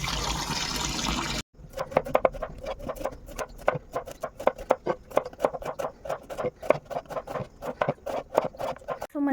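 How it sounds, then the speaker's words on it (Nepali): Bitter gourd being washed under running water, with a steady stream of short splashing and dribbling bursts in quick irregular rhythm, close and moderately loud, no talking. "म चाहिँ करेला धुँदैछु है"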